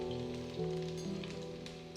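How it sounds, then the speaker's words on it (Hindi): Chopped garlic sizzles in hot oil in a pan, a steady close crackle and hiss, briefly, with no talking. "तेल गर्म होने के बाद हम उसमें गार्लिक जो हमने चॉप करके रखे हैं उसे फ्राई करेंगे"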